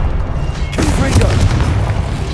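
A Confringo fire spell explodes in Hogwarts Legacy with a sudden, sharp boom partway through, followed by a rumbling, crackling roar up close, with a voice heard during the burst.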